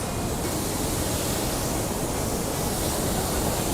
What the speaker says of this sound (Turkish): Altımızda gürül gürül akan bir şelale.